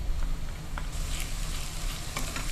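Onions frying in a pan, a steady close sizzle with faint crackles and a light stirring scrape throughout.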